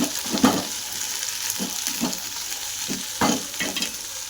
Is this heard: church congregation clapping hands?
no